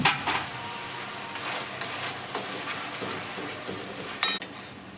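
A paste of cumin, coriander powder, Kashmiri red chili and turmeric mixed with water sizzles in a little oil with squash and potato, stirred continuously with occasional utensil clinks against the pan.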